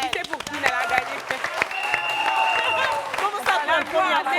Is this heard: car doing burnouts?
no